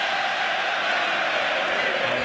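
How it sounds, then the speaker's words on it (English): Irish fans cheering in a boxing arena at Mayweather vs McGregor, a broad sustained roar of a large crowd, loud and even, with no clear voices standing out. "And the crowd goes up"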